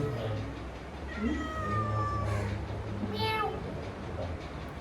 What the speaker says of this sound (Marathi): मांजर पण वेलकम करत आहे आपल्याला.